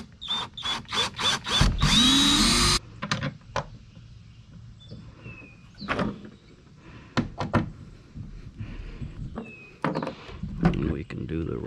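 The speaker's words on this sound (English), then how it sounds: "let's go ahead and drill one on the opposite end" Power drill boring a hole through the plastic hull of a Hobie kayak, heard as a loud sustained whine for about two seconds, followed by scattered knocks, handling clatter and intermittent talk.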